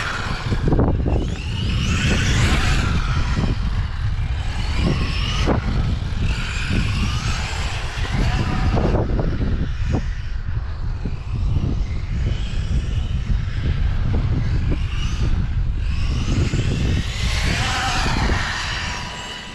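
An HPI Apache Flux RC car with an EMH 2200kv motor driving on an on-road track, a loud continuous electric whine and buzzing roar with shifting pitch as it speeds through corners.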